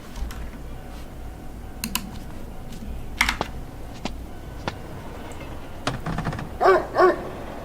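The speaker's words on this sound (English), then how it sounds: "Oh gosh, I'm hearing dogs." Dogs bark in the horror game Spirit Hunter NG: a steady ambient outdoor bed, then two clear barks close together near the end, moderately loud over the background.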